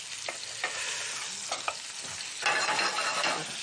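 Duck gizzard sautéing in a hot pan with a steady, close sizzle, stirred a few times with brief scraping strokes, the frying growing louder and brighter toward the end.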